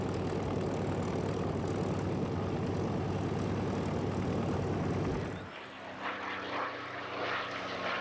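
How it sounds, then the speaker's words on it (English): Inline 12-cylinder supercharged Rolls-Royce Merlin engine of a World War II Spitfire or Mustang warbird, a loud, close, throaty propeller roar filling the first five seconds before dropping away to a quieter, distant drone. "the throaty roar of the inline 12-cylinder Merlin Rolls-Royce supercharged engines that both planes used"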